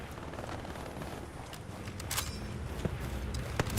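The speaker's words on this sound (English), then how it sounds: "Bombing run coming in through Foy." Bombing run explosions and gunfire in Hell Let Loose, a 49v49 competitive console battle at Foy's southern edge: a dense, continuous rumble of distant blasts with sharp gunshots cracking through near the end.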